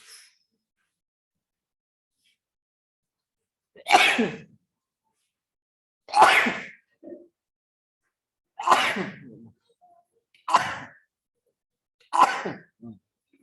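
Five loud, close sneezes from a lecturer during an online class come one by one with several seconds of silence between them, each followed by a short gasp or breath.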